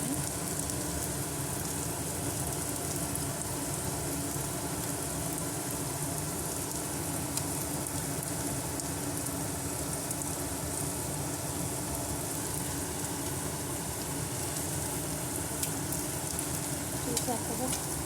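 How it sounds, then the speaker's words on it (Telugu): Fish pieces frying in hot oil give off a steady, loud, crackling sizzle that stays even from start to finish. "మన ఫిష్ ఫ్రై రెడీ అయిపోయింది. చూడండి, పీసులన్నీ ఫ్రై అయిపోయింది."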